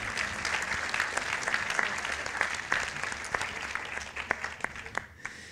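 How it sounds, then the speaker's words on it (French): An audience at a conference screening session applauds, a sustained wash of clapping that thins out toward the end, leaving a few sharp individual claps as it fades. "il faut l'applaudir quand même"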